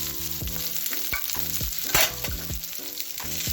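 Onions and fennel seeds fry in hot oil in a pan, a steady close sizzle broken by repeated scraping stirs of a spoon at a regular rhythm.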